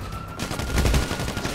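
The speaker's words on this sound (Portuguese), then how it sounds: "tô mandando tiro pra caramba" Loud rapid bursts of gunfire in GTA roleplay rattling almost without pause, dense and close, like an automatic weapon firing in sustained volleys.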